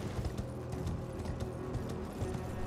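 Horses in Elden Ring give off a dense, steady patter of hoof clip-clops over a low rumbling game soundscape, continuous and fairly close.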